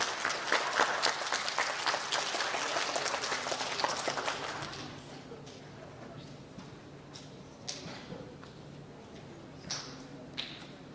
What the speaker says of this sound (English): Let's give our students on the bus one big round of applause.